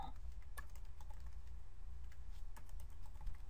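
Fingers type on a computer keyboard with a quick, irregular run of soft key taps, close by over a low steady hum.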